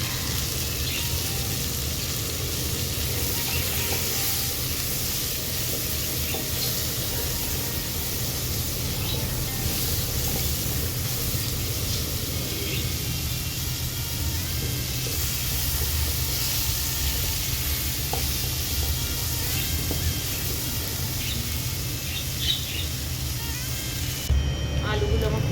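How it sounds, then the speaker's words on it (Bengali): Potatoes seasoned with turmeric and salt fry in a pan, giving a steady soft sizzle and hiss that continues evenly throughout. "আলুগুলো আমার খুব ভালো করে লাল লাল করে ভাজা হয়ে গেছে সব আলুগুলো।"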